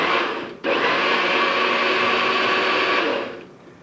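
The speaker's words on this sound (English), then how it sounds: "tie the blade down to the NutriBullet and put it in, and then you go ahead and just pulse and puree" A NutriBullet blender pulses briefly, then runs a steady whirring purée for about three seconds before spinning down, loud and close with no talking.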